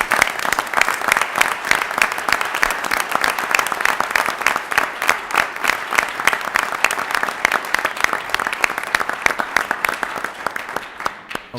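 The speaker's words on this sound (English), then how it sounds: "Let's give him a round of applause." A council meeting audience gives a round of applause for a new Eagle Scout, dense sustained clapping from many hands filling the room for about eleven seconds, tapering slightly at the end, with no speech over it.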